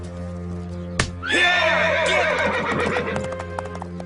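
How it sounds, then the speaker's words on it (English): A horse gives a loud, close whinny lasting about two seconds after a sharp knock, followed by shuffling hooves and faint clip-clop as the animal moves. "Set the horse free."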